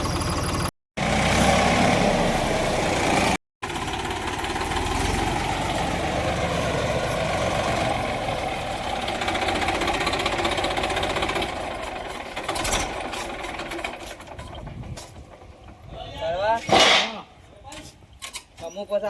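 A tractor engine runs with a steady low rumble and knocking, loud and close, later easing with some clanks as people talk over it.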